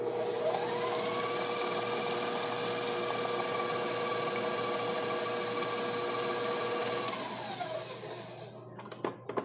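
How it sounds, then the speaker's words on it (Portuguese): An electric mixer beats sugar, butter and egg into cocoa cookie dough in a large, deep bowl, a steady loud motor whir running nearly nine seconds before winding down and stopping, followed by a few faint clatters. "Eu vou acrescentar o ovo e vou bater mais um pouquinho."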